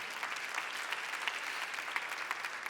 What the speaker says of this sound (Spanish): Denle un aplauso, Señor, por eso.